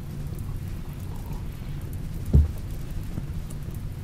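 Steady rain falls in the colony-management game RimWorld, with a single sharp thunder-like thump partway through and no talk.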